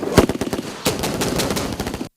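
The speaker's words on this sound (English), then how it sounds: "Firing of live ammunition in real-life simulation to counter obstacle with armored tanks providing fire support" Live ammunition fires during a military training exercise with armored tanks in support, as sharp gunshots and rapid bursts crack loudly one after another before a sudden cutoff.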